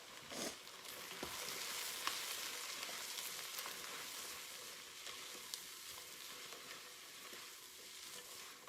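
Sliced mushrooms sizzle in a pan with garlic in a continuous, fairly quiet hiss, with occasional soft clicks and stirring scrapes.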